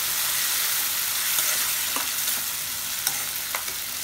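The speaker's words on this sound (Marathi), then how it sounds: "कांदासुद्धा त्या सोड्याबरोबर चवतळून घ्यायचा, म्हणजे सोडेसुद्धा परत छान चवतळले जातात." Chopped onion fries with dried prawns in a pan, a continuous bright sizzle with occasional soft clicks and spatula taps from stirring, moderately loud and close with no talking.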